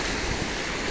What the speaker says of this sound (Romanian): valurile care se lovesc de țărm